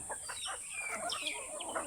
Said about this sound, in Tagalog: para mapakain yung aking mga alagang manok